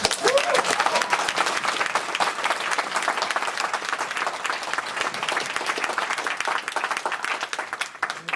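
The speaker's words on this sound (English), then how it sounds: "These gentlemen deserve a round of applause" Audience applause at a Friday night opening event, steady dense clapping from a crowd that stays loud throughout before tapering slightly at the end.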